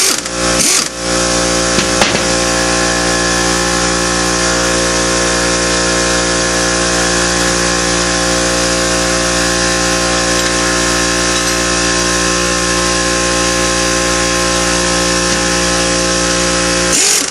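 A power tool loosens the 18 mm bottom shock nut on a 2009 Dodge Challenger SRT8. The nut is welded to the back of the shock. A loud, steady mechanical whir runs without a break, with a brief dip near the start.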